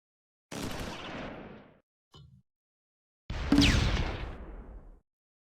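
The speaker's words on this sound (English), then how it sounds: "Ramirez's light mortar opens up on a half-track." Light mortar firing on a half-track in Close Combat 4, Battle of the Bulge at Dasburg: two sharp blasts with decaying rumbling tails and a small thud between them, heard alone.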